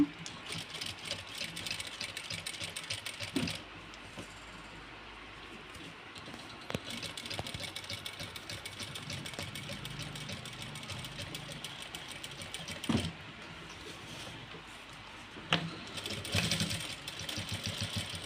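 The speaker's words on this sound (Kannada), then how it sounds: "ಇನ್ನೊಂದು ಸ್ಟಿಚಿಂಗ್ ಹಾಕಬೇಕು ಅಂದರೆ ಸಿಂಗಲ್ ಟೆನ್ಷನಿಂದನೇ ಹಾಕಬೇಕು" Sewing machine stitching an embroidered blouse with beadwork, running in steady mechanical bursts with brief pauses and restarts, close and moderately loud, no talking.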